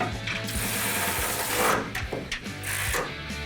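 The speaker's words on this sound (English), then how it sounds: "go ahead and tighten down your shackles and your leaf spring purchase" Ratchet wrench clicking while tightening leaf spring shackles on a 1970 Dodge Challenger, bursts of fast mechanical ratcheting with short pauses between strokes, close and clear in a garage.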